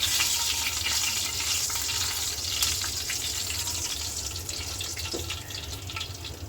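Cinnamon sticks, cardamom pods and a torn bay leaf fry in hot oil in a pan, giving a steady, soft, close sizzle with light crackle that holds for several seconds and has no speech over it.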